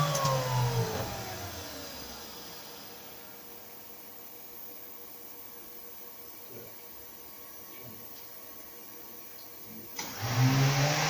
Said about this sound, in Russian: Включаю раундер.